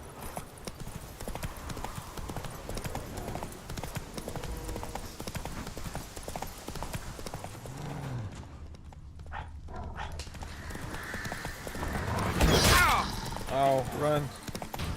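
Rhythmic clip-clop of the horse Roach galloping in The Witcher 3, steady hoofbeats with game effects and a brief drop-out, a talking voice partly over it.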